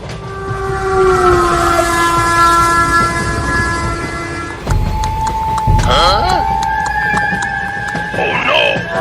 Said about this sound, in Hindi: ये ट्रेन तो इस जंगल में रुकने लगी।